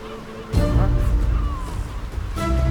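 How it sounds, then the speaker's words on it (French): Atlantic puffins call in a coastal seabird colony in Scotland, giving low, hoarse honking cries over a busy outdoor background, fairly close and loud. "c'est le macareux moine, ce qu'on appelle aussi l'oiseau clown"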